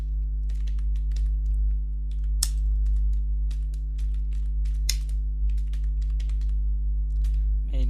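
Rapid, irregular keystrokes on a computer keyboard while building a Flutter app, close and clear over a steady low electrical hum, with no one speaking.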